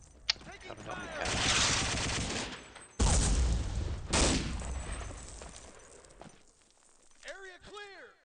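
Gunfire in a first-person shooter on a bot-filled overlord map: two long loud bursts of rapid automatic fire with a sharp single shot early on, then quieter scattered sounds, under shouted voices.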